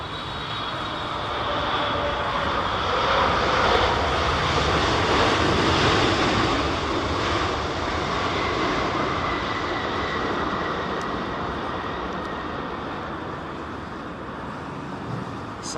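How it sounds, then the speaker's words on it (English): An Icelandair Boeing 757 lands at Heathrow during a storm, its jet engines making a loud, steady, broadband roar that swells and then slowly fades beneath gusty wind. "It's about the only 757 you're going to see at Heathrow, literally, with these guys at Iceland Air."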